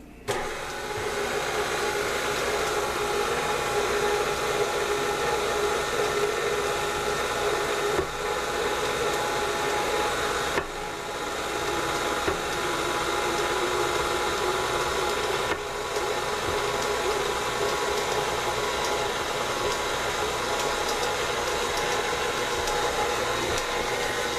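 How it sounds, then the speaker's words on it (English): An electric mixer blends molasses cookie dough, with egg, butter and molasses being combined with dry ingredients. It makes a continuous close motor whir that holds steady, with a few brief dips in pitch and load. "we're just going to mix that until it's all blended well together"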